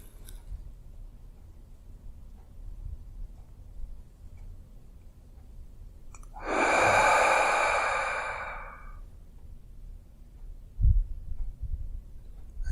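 Slow, natural breathing during a guided meditation: one long, close, audible breath lasting about two seconds, with near silence before and after and a soft bump near the end.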